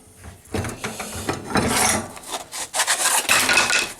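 Corners of a nylon board are rounded with a file, giving close, uneven scraping strokes that come in irregular bursts with brief pauses.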